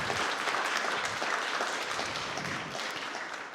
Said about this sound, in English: can we have a huge round of applause to show our appreciation?